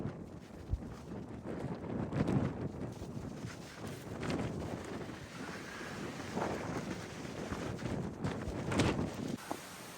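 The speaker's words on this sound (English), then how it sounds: "Wind's kicking up." Wind gusting across an exposed high ridge of the Appalachian Trail in the Baldplates, a steady close rumble of buffeting against the microphone that swells and eases with no voices.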